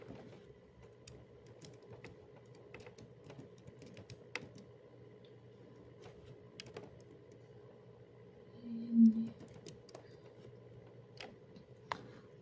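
Keys clack irregularly on a computer keyboard while an ipconfig renew network command is typed, soft scattered taps over a low steady hum with one brief louder bump near the end.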